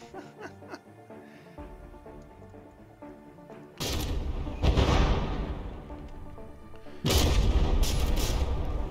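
Battleship guns firing in the From the Depths naval combat game, with heavy booms erupting around four, five and seven seconds over a low rumbling battle bed.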